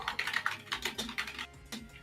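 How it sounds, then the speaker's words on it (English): Rapid clacking keystrokes on a mechanical computer keyboard during a card review stream, an uneven run of crisp clicks close to the microphone, heard alone without talk. "And yes, we can hear Ice's mechanical keyboard"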